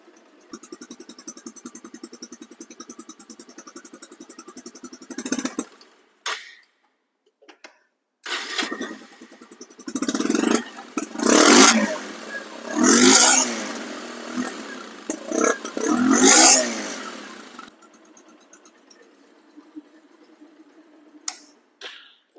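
A second-hand 2021 double-disc motorcycle starts with a steady idle ticking, then revs up in several loud surges before settling back to a quiet idle, heard close with no talking.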